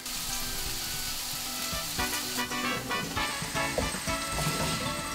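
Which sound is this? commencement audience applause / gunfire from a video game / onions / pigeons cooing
onions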